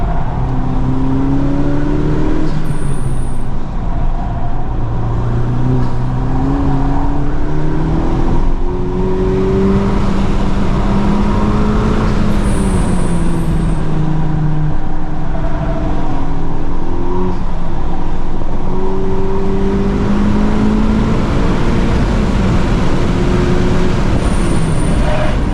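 A 2023 Honda Civic Type R FL5 on all-season tires lapping a flooded track, its engine droning loudly and steadily with rising and falling pitch as it shifts, plus a constant wet road roar.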